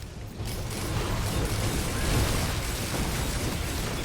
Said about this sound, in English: We literally smothered that area in explosions.